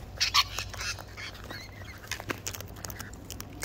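Birds from a flock call out close by, a few quick quacking and squawking cries with soft pattering and rustling in between.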